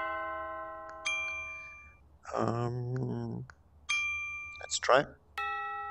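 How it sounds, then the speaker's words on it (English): A bright electronic doorbell chime in the virtual reality game Anyland rings out near the start and end, with a burst of voiced, tonal sound in the middle; no talking over the chimes. "when that button is pressed, it will play a doorbell"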